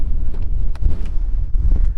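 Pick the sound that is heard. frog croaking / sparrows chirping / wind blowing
wind blowing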